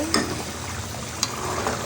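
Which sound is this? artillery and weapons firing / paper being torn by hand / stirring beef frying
stirring beef frying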